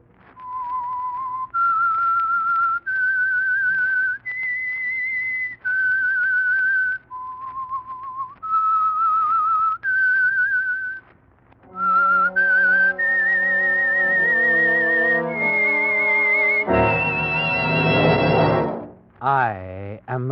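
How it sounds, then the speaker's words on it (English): Whistled theme signal of The Whistler radio mystery show, a clear melodic human whistle in rising and falling phrases, followed by a fuller orchestral swell near the end, loud and close. "That whistle is your signal for the Signal Oil Program,"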